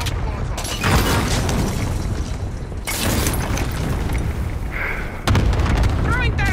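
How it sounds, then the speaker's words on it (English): Cluster airstrike explosions in Warzone Rebirth Resurgence roll in as dense, continuous booming with layered blasts that swell and restart several times, under game voice callouts. "Allied cluster strike arriving."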